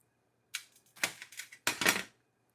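A knife slices through a sweet pepper on a cutting board, three short crisp crunching bursts separated by brief pauses, close and alone in a quiet room.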